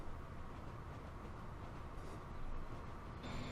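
A very long train rolls through a station in Transport Fever 2, a steady broadband rumble of wheels and carriages that holds throughout, swelling slightly near the end as a faint high tone appears.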